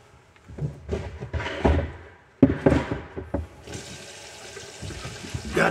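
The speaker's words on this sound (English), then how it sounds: "I'm gonna turn the water on" Clunks and handling knocks give way to a kitchen faucet turned on, water streaming steadily into the sink, fairly close and moderately loud.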